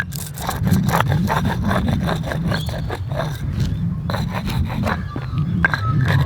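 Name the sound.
rubbing plain candle wax onto a skate rail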